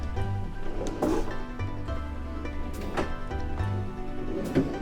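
Cruise ship cabin drawers slide and thud shut several times at a moderate distance, with faint rattles between the movements.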